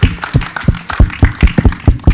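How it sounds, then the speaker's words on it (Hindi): Applause at a film trailer launch event, a sparse run of sharp, roughly regular claps close by, loud and unaccompanied by any talk. "तो नवनीत को बुलाया जाए, एक बार जोरदार ताली होनी चाहिए।"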